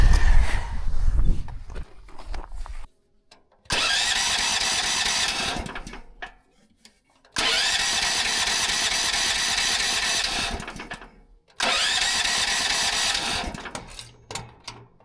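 An engine with no spark is cranked over and over without starting: three long, loud, close cranking bursts of several seconds each, separated by short pauses, following some handling noise at the start.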